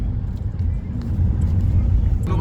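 A second car pulls up and arrives, its steady low engine rumble close and loud throughout, with voices mixed in.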